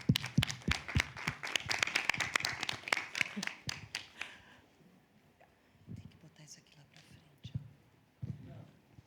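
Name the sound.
workshop audience applause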